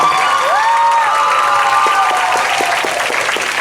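An audience at a high school poetry club event applauds performers, loud sustained clapping with scattered cheers and a few high voices riding over the crowd.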